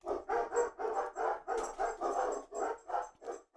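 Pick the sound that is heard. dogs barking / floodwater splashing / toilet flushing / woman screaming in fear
dogs barking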